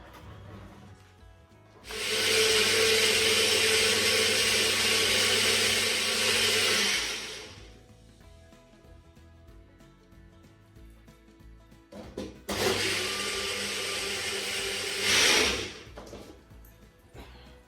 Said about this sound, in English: Take some more of the juice and then just blend it up.